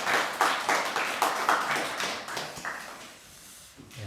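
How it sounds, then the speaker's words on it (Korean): A church congregation at a Sunday service claps in a quick run of bright, separate hand claps that thin out and fade into a quiet room. "우리 하나님께 영광의 박수 크게 올려드리겠습니다."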